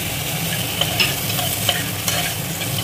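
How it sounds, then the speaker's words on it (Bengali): Spices and chopped tomato frying in a pan for raw banana kofta curry, a dense continuous sizzle close up, with a few sharp scraping knocks of a spoon stirring. "এবার এই সমস্তটা একটু ভালোভাবে ভেজে নেব"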